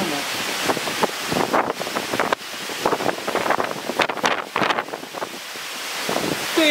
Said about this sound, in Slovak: Jaký lejak aj vietor, všetko ide.